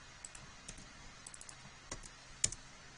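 Computer keyboard keys click in a sparse, irregular scatter of light taps, including a couple of quick shortcut-style presses, close but quiet with no voices.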